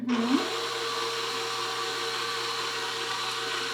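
Stand mixer on its lowest stir setting mixing oatmeal chocolate chip cookie dough, motor starting with a brief rising whine then settling into a steady, even hum.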